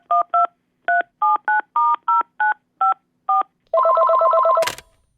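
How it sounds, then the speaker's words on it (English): A telephone keypad sounds a quick, irregular run of about ten DTMF beeps. A sustained ringing tone follows and cuts off in a short burst of noise, all loud and close with no voices. "Can you call up Alex Garland and get him on the phone?"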